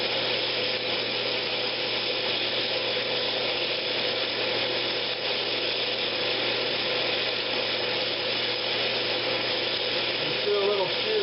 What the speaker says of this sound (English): Just do a little shear scraping.